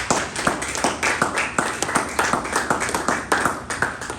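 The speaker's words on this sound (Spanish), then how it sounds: "Denle una ofrenda de palmas al Señor." A church congregation clapping their hands in a steady, quick rhythm, a dense run of sharp claps from many people at moderate volume.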